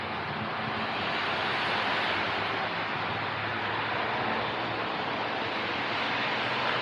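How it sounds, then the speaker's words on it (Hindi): Water pours onto the ceramic-coated roof of a Skoda Kushaq, a steady, close rushing splash that continues evenly without pause. "अभी रूफ में डाल रहे पानी."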